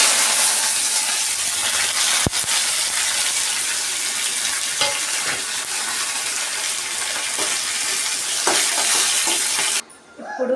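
Tempering spices crackle and sizzle in hot oil in a kadai used for frying brinjal for a curd curry, a loud continuous hiss with faint scraping, cutting off abruptly near the end.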